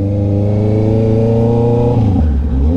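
Car engines drone and rev at a speedway, a loud steady mid-pitched roar that shifts pitch near the end as a car accelerates, with no voices over it.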